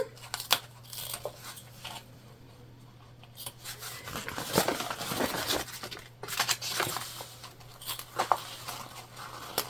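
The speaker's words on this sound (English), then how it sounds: "And then we're going to trim off our excess zipper." Scissors trim excess zipper off a sewn crossbody bag pouch in a run of close, crisp snips and crinkly rustles, irregular and busy over a faint steady hum, with no talking.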